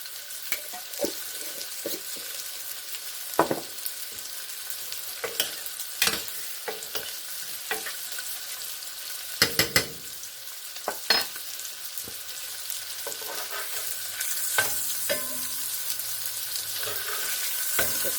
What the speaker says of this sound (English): Burgers. They're cooking up very nicely.